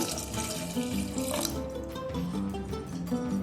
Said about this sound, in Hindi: अब इसमें 2 कप पानी डाल दूंगी